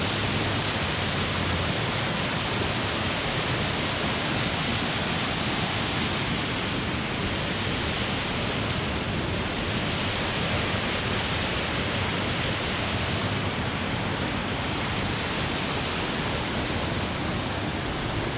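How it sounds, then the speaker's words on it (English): Morgan Creek Falls, a waterfall with a big drop, pours as a loud, unbroken roar of rushing water that holds steady throughout with no voices. "this is the Morgan Creek Falls, and this is the big drop off"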